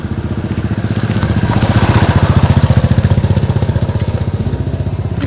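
Motorcycles and scooters on a hill road at Wireless View Point, Fatasil Ambari, make a loud, near engine drone with a fast pulsing throb that swells midway and stays steady.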